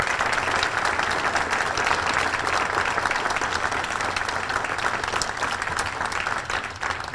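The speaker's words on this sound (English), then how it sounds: "Let's give everybody a big round of applause." Audience at a congressional law enforcement awards ceremony applauds steadily, a dense, even wash of clapping from many hands lasting several seconds.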